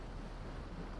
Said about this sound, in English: the sound of the waves licking at the hull